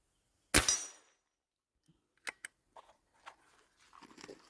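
One sharp, close crack from an air rifle firing NSA 55.5 grain slugs, followed by quiet, with a few faint clicks and soft voices after.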